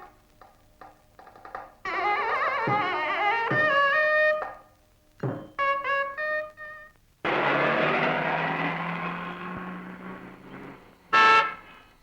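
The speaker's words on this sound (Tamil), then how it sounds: "ஹார்ன் அடிச்சா கூட விலகி போனா" Several long blaring car horn blasts, loud and close, with pitch-shifting tones and short gaps between honks, then a final brief toot.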